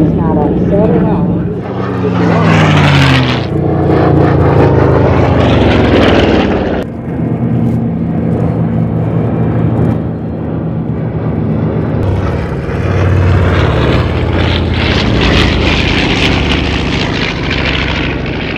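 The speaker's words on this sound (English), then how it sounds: "Leading the parade, the Douglas C-47 Skytrain." A Douglas C-47 Skytrain propeller aircraft passes at an air show, its engines droning loudly and swelling in waves, while an announcer talks over the PA.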